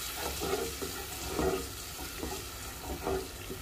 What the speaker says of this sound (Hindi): और मैं इसमें ये जो नारियल का दूध है ये इसमें डाल देती हूँ